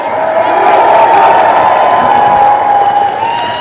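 A crowd at a Minnesota rally in support of Ukraine in St. Paul applauds and cheers, with a steady loud wash of clapping and some whoops throughout.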